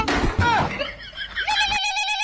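A mobile phone ringtone plays a repeating electronic melody, loud and close, with brief laughter and talk over the start.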